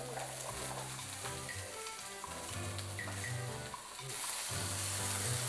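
Cut potato french fries sizzle steadily in hot oil, a dense crackling hiss that swells louder as more pieces drop in near the end, with no talk.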